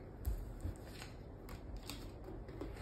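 Cards from the traveler deck in a board game being shuffled at the table, a few quick riffling bursts over faint room noise with no talk.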